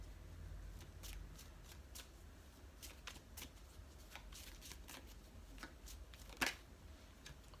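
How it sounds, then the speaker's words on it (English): Tarot cards being shuffled by hand, a steady run of soft riffling flicks and slaps close by, with one sharper snap near the end and no talking. "Let's get some tarot cards here to see."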